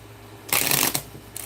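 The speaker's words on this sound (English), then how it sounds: "Let's go ahead and shuffle the cards." Tarot cards are shuffled by hand in a quick burst of papery riffling lasting about half a second, followed by a shorter second flick, close and clear without talk.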